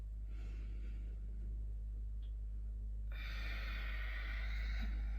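A deep breath is taken during a gentle yoga flow. It starts quiet, then a soft breathy rush swells halfway through and carries on to the end.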